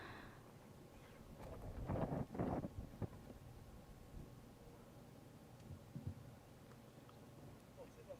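Strong wind blows across a mountain glacier on Mount Anyemaqen in Qinghai, buffeting the microphone with a low rumble and a few heavier gusts early on, then settling into a fainter steady blow.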